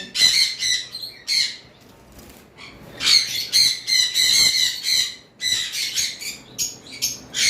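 Pet parrots such as cockatiels and sun conures at a bird farm let out close, shrill chirps and rapid squawks in repeated bursts, with brief quieter gaps between calls.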